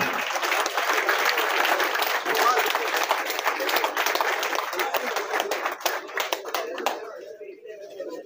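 Loud, dense applause from a large crowd of elders and young men at a political gathering, steady for about seven seconds before thinning into scattered claps and fading out.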